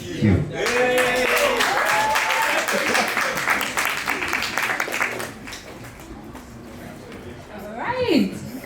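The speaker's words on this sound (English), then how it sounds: "Hey guys, please, another round of applause." An open mic crowd claps loudly for about five seconds while voices call out over it, then the applause dies away into scattered claps and talk.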